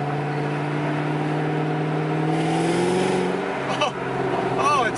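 Rising whine and engine note of a supercharged 2008 Ford Shelby GT500 with an upgraded intake, pulley and tune, heard from inside as it accelerates, the pitch climbing steadily, with a person talking over it.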